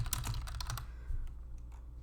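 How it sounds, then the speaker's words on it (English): A burst of quick keyboard typing while entering a vendor name in QuickBooks Online, close-up clicks that patter fast and then thin out into a few scattered keystrokes before the typing stops. "and then type it out."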